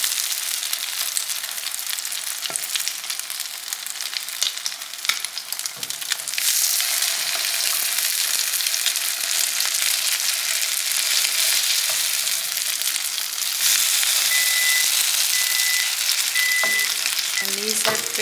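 Low Country crab cakes sizzle steadily in a hot pan just after being flipped, a continuous bright frying hiss with a few faint clinks near the end.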